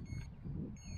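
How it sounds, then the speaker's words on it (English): A thin, high-pitched electronic beeper on a Flytec H825G quadcopter sounds in two short bursts separated by a pause, over a steady low rumble. "you got a buzzer on the actual quadcopter, a little beeper."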